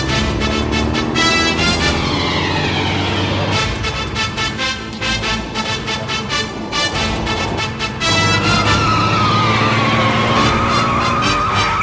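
A car tears along at high speed, its engine roaring loud and close with tyres squealing in a skid, set against dramatic film music in an action chase scene.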